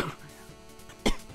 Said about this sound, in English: I'm coughing a lot and I know it